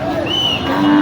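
A short, loud moo from a nearby cow, over the noise of an outdoor cattle market in Raijdia.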